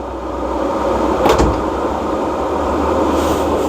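A Rover R8 car door is eased shut with a single soft, dull thud about a third of the way in, set against a steady wash of outdoor background noise.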